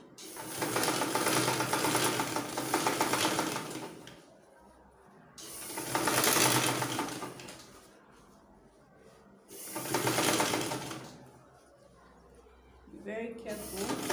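A sewing machine stitches a zipper fly in three loud, steady runs of rapid mechanical whirring, each a few seconds long, with quieter pauses between them and a faint click near the end.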